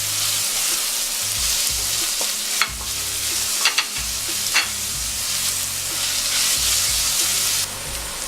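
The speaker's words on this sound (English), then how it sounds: "So I'm just gonna stir it together for about 2 seconds." Curry shrimp ingredients with onion being stirred in a hot frying pan: a steady bright sizzle with a few sharp scraping clicks of the utensil, close and continuous, no talking.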